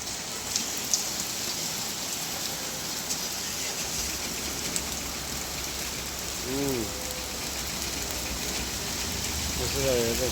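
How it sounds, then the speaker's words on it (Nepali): Heavy rain with large hailstones pouring down in Kathmandu, a dense steady roar of drops hitting surfaces, with a faint voice in the background and a cow briefly lowing. "हेर्नु यहाँ ठुल्ठुलो असिना।"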